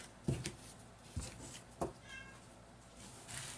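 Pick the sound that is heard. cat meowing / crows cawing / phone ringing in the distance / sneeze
cat meowing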